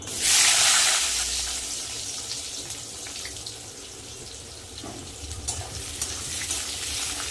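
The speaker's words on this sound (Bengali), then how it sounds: "পেঁয়াজটা আমি লাল লাল করে ভেজে নেব" Chopped onions hit hot oil where fish was just fried with whole cumin, giving a loud initial sizzle that eases into a steady crackling fry with occasional stirring scrapes.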